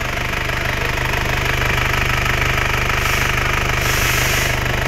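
A 2006 Mitsubishi Crosswind Sportivo automatic idles while warming up before an oil change, its engine ticking in a fast, even, loud rhythm close by, steady throughout with no voices.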